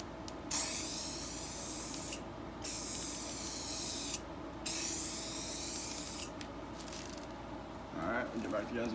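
Spray paint hissing onto a Ford Focus part as a first coat, in three long bursts of a few seconds each with short pauses between, close and steady, followed by a quieter stretch at the end.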